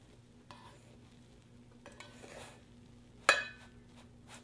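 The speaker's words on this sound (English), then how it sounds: "Open the lid and stir the rice." Cooked rice is stirred in an Aroma 6-cup rice cooker, with quiet soft scrapes and one sharp clack of the paddle against the pot near the end, close and faint overall.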